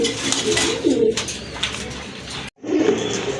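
A male and female pigeon pair with pink beaks coo in repeated rolling calls, close and clear, broken by a brief silent gap before the cooing resumes.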